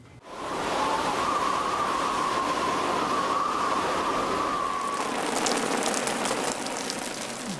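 Heavy hurricane rain pours steadily as a loud, dense hiss, with a faint drawn-out tone running under it for several seconds.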